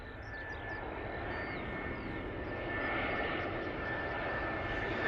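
An Airbus A320 airliner on approach into Bristol, its steady engine roar and whine growing slightly louder as it nears, continuous and alone without talk.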